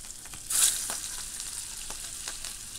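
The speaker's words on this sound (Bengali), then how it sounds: "আমি আগে ইলিশ মাছ ভেজে নেব। আমি মাছে হলুদের গুঁড়ো দিয়ে দিলাম ভাজার জন্য" Hilsa fish coated in turmeric powder frying in hot oil in a pan, a brief bright sizzle burst as it hits the oil, then a steady soft crackle close by.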